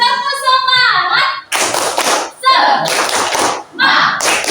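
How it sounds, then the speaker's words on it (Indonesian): A class of students performs the tepuk semangat clap, loud bursts of rhythmic group clapping alternating with short chanted shouts from the children. "Mari kita tepuk semangat."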